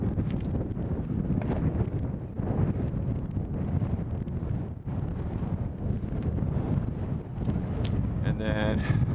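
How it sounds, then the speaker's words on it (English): Strong wind buffets the microphone at the top of North Glacier Pass in the High Sierra, a continuous loud roar with gusty surges throughout. "Very windy."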